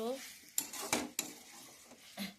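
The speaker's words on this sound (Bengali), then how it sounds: "মাংস ভাজা" Chicken pieces fry in a pan while being stirred, with soft sizzling broken by a few sharp spoon-against-pan clinks and scrapes, close and fairly quiet.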